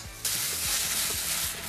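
Ground paste drops into hot tempering oil with mustard seeds, asafoetida, cumin and curry leaves, setting off a sudden, loud, steady hissing sizzle that continues to the end.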